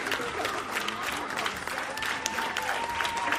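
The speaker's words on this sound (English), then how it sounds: "Please hold the applause." Audience applause for a guest clown on a clown talk-show stage, a steady wash of clapping from a crowd that holds at an even level throughout without pause.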